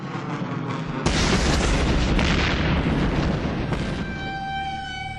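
Airstrike explosions as a war sound effect: a sudden loud, deep boom that rolls on as a sustained roaring rumble, with a second blast rising near the end, then tones fading in.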